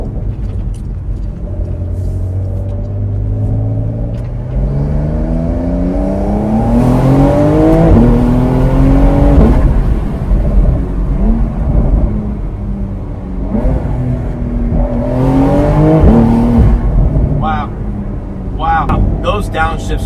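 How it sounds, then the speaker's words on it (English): A 2020 Porsche 911 Carrera 4S Cabriolet (992) revs and accelerates through several gear changes, with sharp exhaust pops and crackles on downshifts as the revs drop and someone talking over it. "to hear all the crackles and the bangs on the exhaust when you let off"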